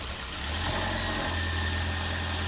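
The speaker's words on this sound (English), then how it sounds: "the engine just started" A Toyota hybrid engine that has just started idles with a steady low hum. It sounds rough and a little uneven, and it is close and continuous with no talking.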